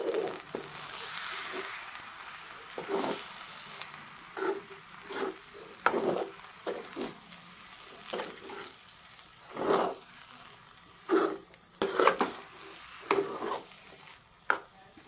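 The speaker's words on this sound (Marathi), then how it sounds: "तर हे आपण ह्या भातामध्ये मिक्स करूया. आणि आपल्याला छान परतून घ्यायचं आहे" Dal mixed into leftover rice and stirred while sautéing in a pan: repeated close scraping and soft squelching strokes at an uneven rhythm, moderately loud over a faint background hiss.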